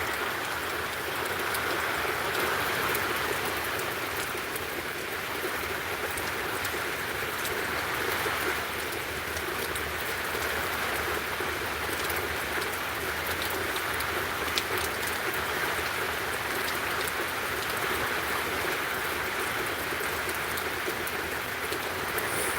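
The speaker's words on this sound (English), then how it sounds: "Rainy day." Steady rain falls on a rainy day in North Georgia, an even, continuous hiss of drops on surfaces that holds at the same level throughout, with no voices.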